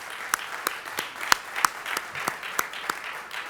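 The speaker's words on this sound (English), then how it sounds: "So can we give them all a round of applause?" Applause from an audience at a press conference for an event in Houston, steady clapping with a few sharper individual claps standing out, fairly close and filling the whole stretch without talk.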